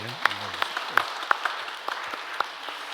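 A church congregation applauds at an Easter Sunday service, scattered claps that thin out into separate sharp hits over a faint background with some voices.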